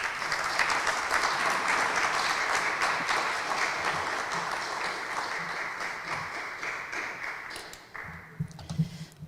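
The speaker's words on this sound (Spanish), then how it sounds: "Le recibimos con fuertes aplausos." Audience applause welcoming a speaker at an engineers' association event in Peru, a broad, sustained crowd clapping that gradually thins and fades toward the end, with faint voices as it dies down.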